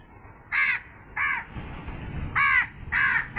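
Crows cawing nearby in a run of four loud, harsh calls, two early and two close together later, with quiet background murmur between them.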